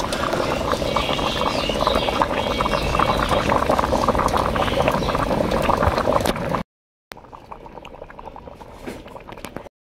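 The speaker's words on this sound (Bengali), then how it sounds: "হ্যাঁ, আমার তরকারির ঝোল ফুটে উঠেছে।" Egg curry gravy with potatoes bubbling at a boil in a pot, a steady close simmering hiss that cuts off and resumes more quietly after a brief gap.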